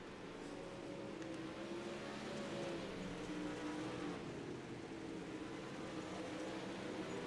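Faint, steady roar of video game racing car engines hums continuously at a distance, blended with a soft wash of background noise.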